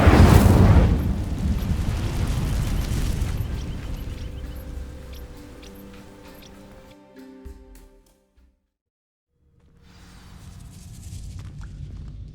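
An Incendio fire spell is cast in Hogwarts Legacy on PS5. A loud, rushing burst erupts at the start and slowly fades over several seconds, then drops to near silence before quiet game ambience returns.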